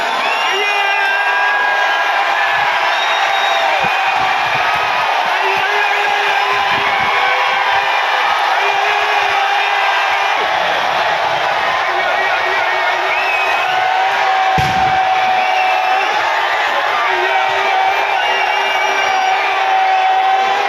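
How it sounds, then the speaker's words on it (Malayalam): Crowds at the Chinakkathoor Pooram festival in Kerala roar as the horse effigies are raised: a dense, sustained wall of cheering, whoops and shouts, loud and unbroken throughout. "ഇതോടെ ആരവങ്ങൾ അലയടിച്ചു വിവിധ ദേശങ്ങളിൽ."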